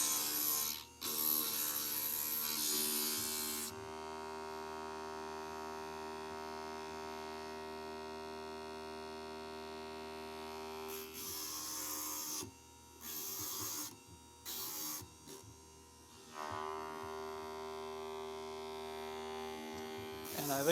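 Bench grinder running steadily with a loud, droning hum while small hobby pieces are worked, the tone dipping and cutting out briefly several times near the end as the workpiece is pressed and lifted.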